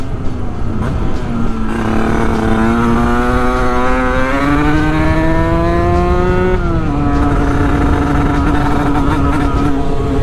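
A Sherco Supermoto 50 two-stroke motorcycle with an AM6 big bore kit is ridden, its buzzing engine loud and close, the pitch climbing steadily through a gear, dropping at a shift, then rising again under constant wind noise.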